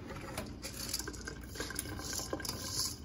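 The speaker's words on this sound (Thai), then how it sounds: "เทน้ำ" Water is poured while cooking fried smelt fish in banana leaves, a continuous pattering splash with small bubbling and clinks of kitchenware, close and fairly quiet.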